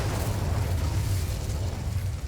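A low, steady roaring whoosh fills the whole stretch as the Incendio fire spell is cast in the Hogwarts Legacy video game; a dense, even burst with no talking.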